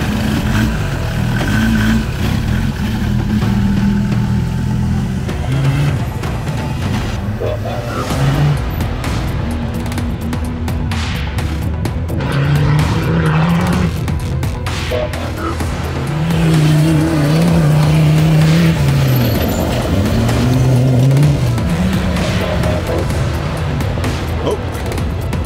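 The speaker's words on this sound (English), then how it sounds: "It's got a handmade turbocharger that makes quite a nice sound for a diesel engine." Loud turbocharged diesel engine with a handmade turbocharger revving repeatedly, its pitch climbing and falling in surges, with a steady rumbling roar and occasional tyre noise.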